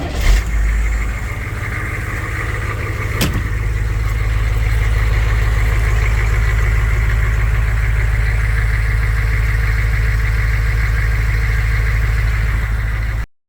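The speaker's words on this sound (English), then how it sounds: "it's a pretty nice deep rumble" Humvee with a non-turbo 6.5 diesel engine and intact muffler idling, a steady deep, rough rumble held close and loud with no talk, after a brief sharp click near the start.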